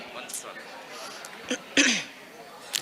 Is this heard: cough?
yes